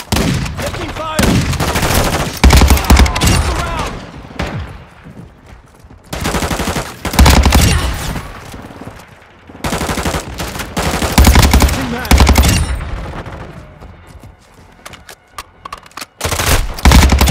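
Gunfire in a multiplayer team deathmatch shooter game: loud, close bursts of rapid automatic fire in several volleys separated by brief quieter gaps.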